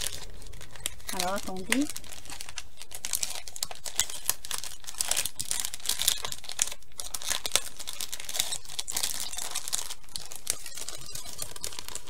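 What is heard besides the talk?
unwrapping packaging around small plaster objects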